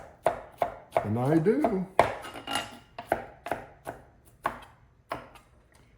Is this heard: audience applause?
no